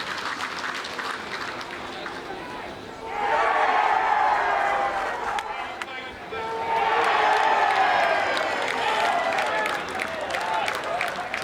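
A Geelong crowd at a night-time bowls match cheers and applauds in two loud swelling waves, the roar rising, easing, then surging again, with commentary voices running beneath.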